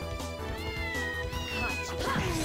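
Cartoonish cat meows from the game Castlevania: Order of Ecclesia, several short mewing calls sounding over continuous loud background music.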